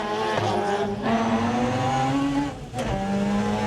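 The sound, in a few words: rally car, Mazda-engined Ford Escort, driving at speed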